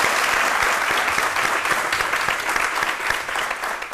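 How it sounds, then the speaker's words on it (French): A studio audience at a midday television talk show applauds in a warm, sustained burst of dense, even clapping that holds steady throughout. "on va se permettre de vous offrir encore une vague d'applaudissements pour la classe"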